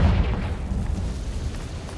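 Confringo spell explosion in Hogwarts Legacy, a deep booming blast at the start with a rumbling tail fading over two seconds.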